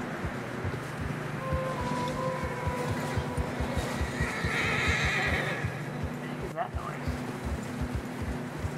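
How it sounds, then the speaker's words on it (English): Horses whinny and neigh while hooves clip-clop steadily through fresh snow in the Western game Red Dead Redemption 2, with a lingering mid-pitched neigh over continuous plodding steps and a brief voice. "horses are getting tired."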